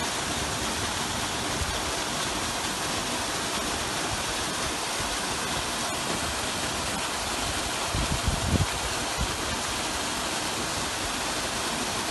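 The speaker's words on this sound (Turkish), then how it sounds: "şu anda şelallerin olduğu noktaya geldik." Steady broadband roar of a waterfall in the Kısık valley, continuous and close, with a brief low thump near the end and no voices.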